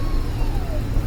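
1956 Cadillac Sedan DeVille held in first gear, its transmission giving a thin, faint whine that slowly falls in pitch over a steady low engine rumble, heard up close.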